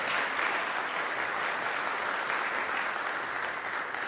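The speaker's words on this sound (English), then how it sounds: "Big applause." Audience applause closing a hardware hackathon finals, a dense even wash of clapping from a crowd, steady and moderately loud throughout.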